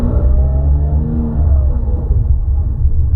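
A 2003 Porsche 911 GT3 (996.2) with its 3.6-litre engine and manual gearbox rumbles steadily at close range, a deep, loud and continuous engine drone with no voices over it.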